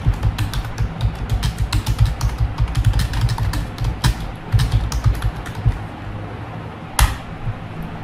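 Numbers typed on a computer keyboard during typing practice, a rapid, steady run of close, crisp key clicks lasting throughout, with a sharper single strike near the end.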